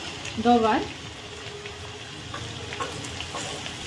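Cluster beans and potatoes sautéing in a pan give a soft, steady sizzle under a brief clink near the start and faint voice-like sounds, close and moderate.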